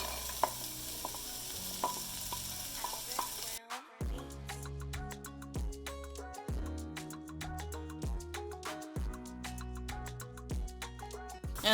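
Peas, carrots and corn sautéing with softened onions and garlic in a pan for cauliflower fried rice, a steady sizzle with repeated stirring scrapes and clicks that grow busier after the first few seconds.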